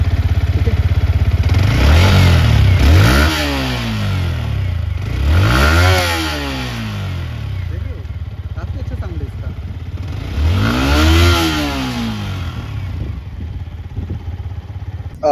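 A Yamaha MT 15 motorcycle engine idles close up, rising into three strong revving bursts that swell and fall back to a steady idle between them.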